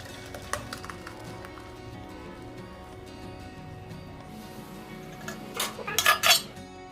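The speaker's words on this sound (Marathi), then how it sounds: "ही चाळणी घेतलेली मी चाळणीमध्ये आपल्याला हे तांदूळ ओतून द्यायचे" Cooked cumin rice tipped from a pot into a metal strainer, giving a steady low rumble of moving grains, then a loud cluster of metallic clanks and scrapes near the end.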